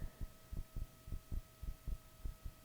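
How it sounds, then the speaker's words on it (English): A steady heartbeat, paired thumps repeating about every quarter second in a low, throbbing rhythm, with a faint constant electrical hum running beneath it and no voices. "I think they can hear a heartbeat."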